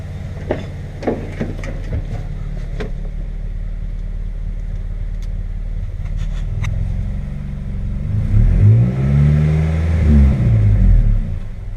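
A Suzuki X90 engine idles with a steady low rumble, then revs up loudly near the end with rising and falling roars.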